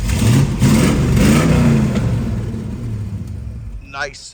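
A 1968 Ford Mustang's 302 V8 revs with a loud, deep rumble that swells early, then slowly dies away toward the end, with voices partly mixed in over the engine.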